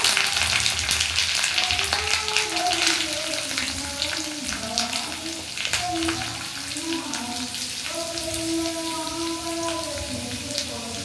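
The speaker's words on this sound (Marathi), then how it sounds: "कांदा चांगला भाजून घ्यायचा आहे गोल्डन ब्राऊन होईपर्यंत" Onions sizzle and fry steadily in hot oil after curry leaves, a continuous crackling hiss with a person talking over it.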